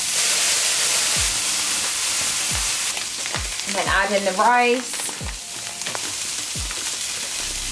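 Food sizzles steadily in a pan during a quick healthy stir-fry, with spring onions and sweet corn in the mix and rice going in, plus scattered clinks of the utensil on the pan. A voice speaks briefly over the constant hiss.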